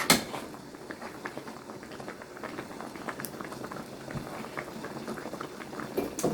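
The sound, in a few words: cucumbers and onions boiling in pickle brine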